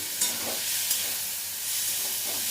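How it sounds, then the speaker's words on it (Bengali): Chicken frying in a wok, a steady hiss and sizzle with a few scraping stirs of a spatula against the pan, close and alone without any voice. "ভালো করে নাড়াচাড়া করব। চিকেনটা একটু কড়াই গায়ে লেগে গেলে কোনো অসুবিধা নেই।"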